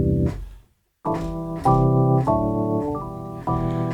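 Hammond organ played with the rotary speaker stopped, heard alone in a song production session: a short held chord cuts off into brief silence, then a string of sustained chords changes every half second or so, steady, close and fairly loud.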